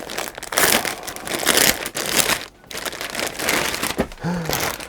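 A plastic bag holding a heating vest crinkles and crumples continuously as it is handled up close, loud, with a brief pause midway.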